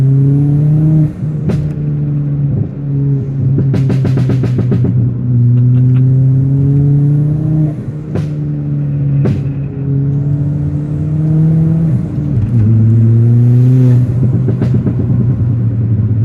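A tuned Ford Fiesta ST Mk7 engine revs and pulls hard with a throaty exhaust drone, pitch rising and falling through gear changes, with sharp pops and crackles between shifts.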